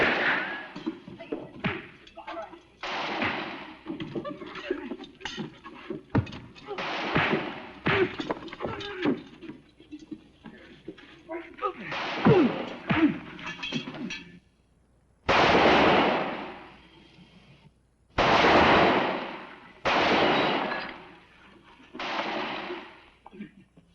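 Gunfire in a Western store scene: several loud, sharp bursts of shots near the end, after a stretch of shouting voices, scuffling and thuds.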